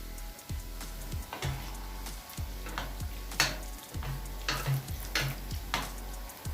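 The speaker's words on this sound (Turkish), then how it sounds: "Etlerimiz kızarmaya başladı." Meat sizzling in hot oil with steady crackling, interrupted by repeated scraping and stirring clatters from a utensil in the pan as the pieces are turned.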